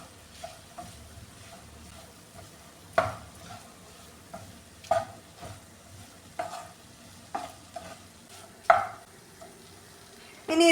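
Spice powders get stirred into ivy gourd in a hot pan for kovakka mezhukkupuratti: a soft, low fry hiss broken by repeated sharp scrapes and knocks of a spoon against the pan, close by and with no voices.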